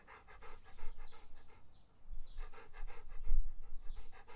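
An old sheepdog pants, producing quick rhythmic breathy huffs close by in uneven bursts, with no talking.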